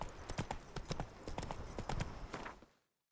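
A horse galloping in The Witcher 3: Wild Hunt (Blood and Wine), with rapid, close clip-clop hoofbeats in an uneven rhythm for nearly three seconds before cutting to silence.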